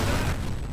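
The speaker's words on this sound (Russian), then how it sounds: "Прям под ноги гранату кинул мне." A grenade blast right at the player's feet in the video game F.E.A.R., a single heavy low boom decaying over under a second with no talk.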